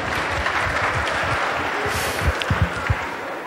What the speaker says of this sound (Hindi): जो भी मेरे साथी यहाँ भाइयों और बहनों ताली बजा रहे हैं